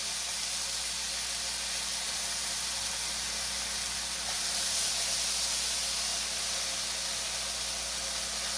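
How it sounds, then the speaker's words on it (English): A constant, dense sizzling hiss fills the clip as food fries in an electric skillet, steady and close with no talking. "You hear that sizzling?"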